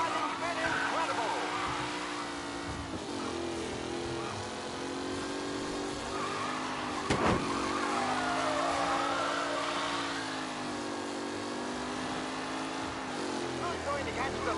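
Race car engines in Mafia: Definitive Edition, a sustained whining drone that rises and falls in pitch as cars work around the track, with a brief bump midway and a commentator's voice speaking over it.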